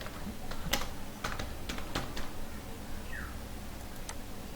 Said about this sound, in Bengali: ধরুন আমি লিখছি সমীর মালিক।